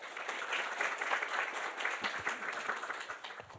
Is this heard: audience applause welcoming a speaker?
yes